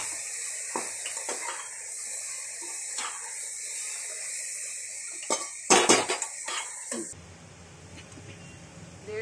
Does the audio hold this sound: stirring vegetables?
yes